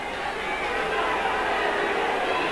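Rugby league crowd at Warrington versus Wigan roaring in protest at a referee's decision, a steady, massed wash of jeers and shouting from the stands with no break.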